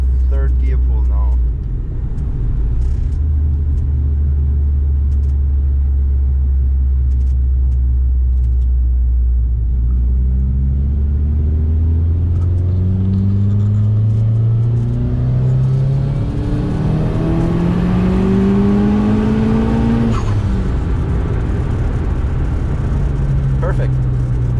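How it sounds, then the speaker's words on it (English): A Seat Leon FR engine pulls hard through third gear, its drone climbing steadily in pitch over about twenty-five seconds under continuous road rumble, with speech over it. "we're gonna do a third gear pull now"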